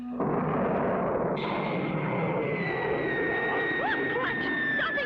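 A cartoon rocket blasts off with a sudden roaring rush that swells and then holds as a loud sustained thrust, with a rising whistle tone and warbling sound effects layered over it.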